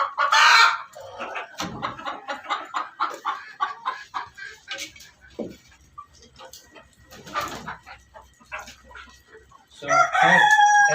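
Desi hens clucking and squawking on an urban rooftop farm in Pakistan, several birds close by in uneven bursts, with a rooster crowing briefly and a loud flurry of squawks near the end.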